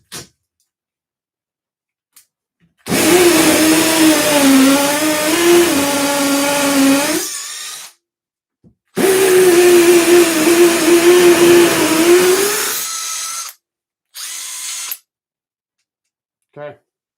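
A Milwaukee hammer drill with a multi-material bit drills into concrete in two long bursts of several seconds each, loud and close, followed by a shorter burst, with silence between.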